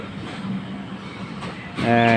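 A passenger train rumbles nearby with a steady low roar, and a horn-like tonal blast rises near the end.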